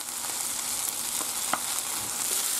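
Ham fries in oil in a pan for a Spanish tortilla paisana, giving a steady soft sizzle with a few light scrapes and clicks as it is stirred.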